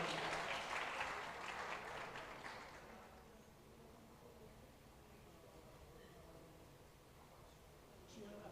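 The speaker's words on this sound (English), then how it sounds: "can we please have a round of applause to all our panelists as we welcome them on stage" An audience at a live event applauds as panelists walk on stage: loud, dense clapping for about three seconds, then fading away into quiet room tone.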